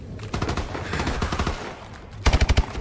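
Gunfire from Call of Duty: Advanced Warfare on PS3, with scattered shots and short automatic bursts in the middle and then a loud, rapid string of about six close shots near the end.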